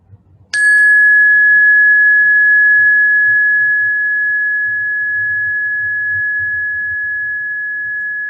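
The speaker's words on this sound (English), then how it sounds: "Inviting attention to rest on the sound sensation of the bell." A single meditation bell is struck once, close and clear, then rings out as one pure sustained tone that fades very slowly. Faint low room murmur sits underneath.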